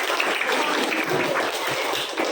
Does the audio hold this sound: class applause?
yes